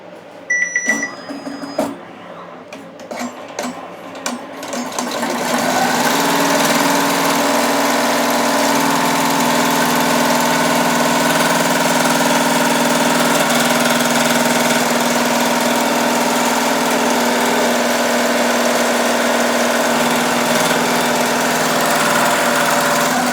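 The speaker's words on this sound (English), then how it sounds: "So we're doing a double edge zigzag stitch." An embroidery machine running a double edge zigzag stitch with chenille work: a few sharp clicks and knocks, then a steady loud mechanical hum and rattle that continues evenly for the remaining time, close up with no voices.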